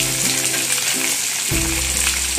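Green chillies frying in hot oil with cumin and curry leaves in a kadai, a loud, dense, continuous crackling sizzle up close, with a low hum beneath it.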